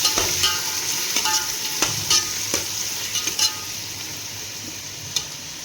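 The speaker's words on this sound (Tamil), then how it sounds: "பட்டை ஏலக்காய் போட்டாச்சு. வெங்காயம் போட்டாச்சு. நல்லா வெங்காயம் வதக்கணும்." Onions sautéing with cinnamon and cardamom in a hot pan: a steady bright sizzle broken by repeated sharp scraping stirs at an uneven rhythm, close and fairly loud.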